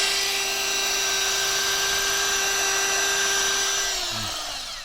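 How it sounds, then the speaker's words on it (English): A power drill whines at a steady high pitch, grinding close up into concrete for anchor holes for several seconds before winding down. "So we've been drilling holes with little L brackets with Tapcon screws, concrete screws"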